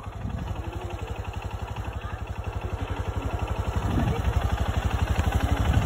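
A motorcycle engine runs nearby with a fast, regular thumping pulse, idling and rising slightly in loudness partway through.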